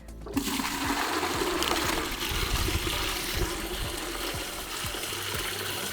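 An Ecuadorian toilet flushing, a sudden loud gush of water that settles into a steady rushing swirl and continues close up for several seconds.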